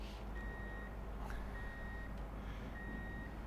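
Reversing beeps from a truck in a trucking simulator game: a steady, evenly spaced series of high electronic tones, fairly faint over a constant background rumble.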